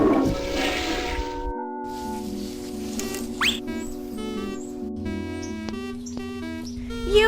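Cartoonish toilet flush from the adventure video game Day of the Tentacle, a gurgling watery rush under sustained tonal game music with squeaky chirps and a rising whistle, steady and close throughout.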